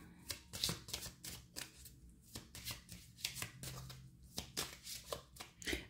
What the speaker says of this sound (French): Je vais vous tirer des cartes de l'oracle, des cartes médecine.